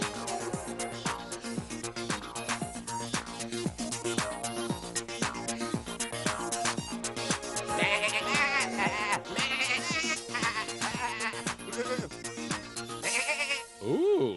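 Cartoon sheep bleat over and over in a quick, rhythmic run of loud calls, with music-like tones woven underneath and no one talking.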